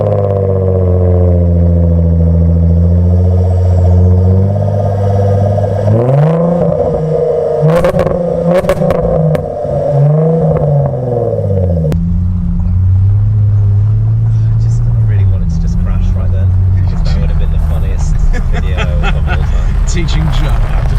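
Jaguar F-Type sports car engine cranking to life, then revving in rising and falling surges with a deep burbling exhaust, loud and close, with people talking over it.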